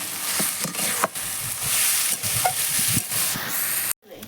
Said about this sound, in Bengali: এটা এবার চিকেনের সঙ্গে আমি 5 মিনিট ভালো করে একটু কষিয়ে নেব